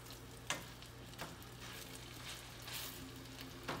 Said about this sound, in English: I'm trying not to burn the sausage.